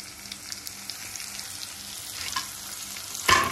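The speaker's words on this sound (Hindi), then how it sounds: "लहसुन को थोड़ा ब्राउन होने देंगे" Garlic sizzles and browns in hot oil in a pan, a steady close frying crackle with faint stirring scrapes and a louder burst of sizzle near the end; no one speaks.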